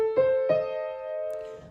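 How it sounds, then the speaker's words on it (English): A diminished triad of two stacked minor thirds enters note by note in quick succession, then rings together as a held chord that gradually fades, with no voices. "That is the diminished triad."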